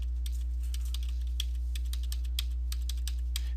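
Card number keyed in on a computer keyboard: quick, irregular runs of crisp key taps over a steady low hum, close and fairly clear with no talking.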